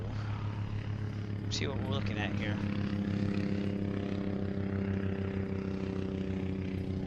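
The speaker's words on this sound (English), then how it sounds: "Got some airplane sounds." A steady propeller-engine drone from an airplane in a flight video game hums throughout, with a person speaking briefly over it near the start.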